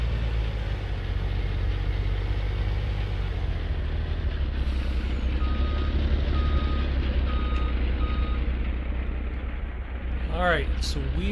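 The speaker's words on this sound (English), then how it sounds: "So we are just pulling this truck back into our shed here." In Farming Simulator 19, a truck backs into a shed with its loud engine rumbling continuously while evenly spaced reversing beeps sound over it. A short voiced sound comes at the end.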